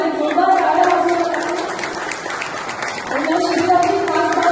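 Applause rises at a district hospital event for a children's 2D echo campaign, a crowd clapping steadily under a loud voice speaking over a sound system.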